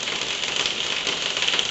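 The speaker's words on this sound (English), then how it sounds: "excuse the sound of the rain tapping on this plastic conservatory roof" Rain patters steadily on a plastic conservatory roof, a dense, even hiss of drops with no gaps, close by and moderately loud, in a workshop setting where a 1973 Briggs and Stratton 3hp engine is being rebuilt.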